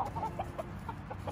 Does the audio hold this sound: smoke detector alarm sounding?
no